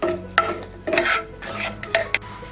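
Cashews and raisins fry in ghee as a spatula scrapes and stirs in short, uneven bursts over a faint background sizzle.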